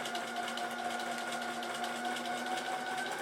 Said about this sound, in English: stitch carefully across the gap and onto the second one